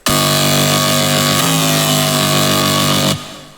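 A screechy Serum synth bass drones loud and close, buzzy and harmonically dense, with an LFO on the filter cutoff making it waver and tremble. It holds steady for about three seconds, shifts pitch slightly midway, then cuts off abruptly, with no talking.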